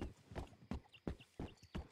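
Steady horse hoof clopping in a walking rhythm in the video game Last Country, several distinct thuds with faint background noise.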